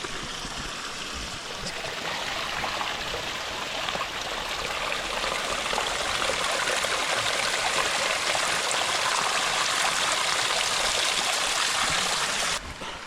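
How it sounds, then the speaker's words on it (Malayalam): A mountain stream near Manali on the Lamadugh trek rushes steadily, a loud, broad, continuous wash of flowing water close by and alone, cutting off abruptly at the end. "അങ്ങനെ ഒടുവിൽ നമ്മൾ വെള്ളം കണ്ടെത്തി"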